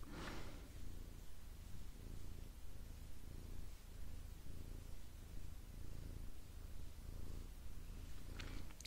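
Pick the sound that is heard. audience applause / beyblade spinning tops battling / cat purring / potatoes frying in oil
cat purring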